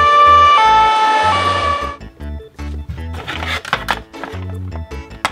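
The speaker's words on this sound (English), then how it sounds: "white ambulance." An ambulance siren wails loudly, sweeping up and down at first, then fades as engine rumble and traffic noise continue.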